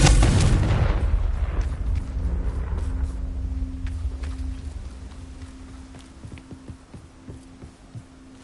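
A Confringo fire spell explodes in Hogwarts Legacy: a loud, deep blast at the start decays into a long rumbling tail with a low sustained hum, then scattered faint thuds and clicks follow.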